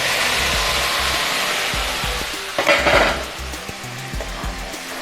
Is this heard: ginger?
yes